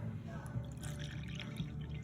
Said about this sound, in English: And then we're gonna pour in the milk.